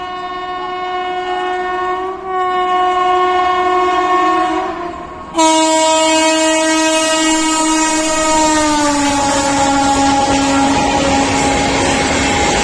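The Agra Intercity train blasts a loud, sustained two-tone horn at close range while passing, the horn cutting off briefly before sounding again over rumbling wheels and wagon clatter.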